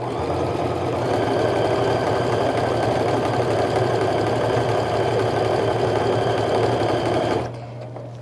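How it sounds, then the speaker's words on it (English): Sewing machine chain-stitching strip-pieced quilt pieces, a steady loud mechanical whir with a rapid needle rhythm that runs for several seconds, then stops abruptly, leaving a faint hum. "we're going to sew down the other side"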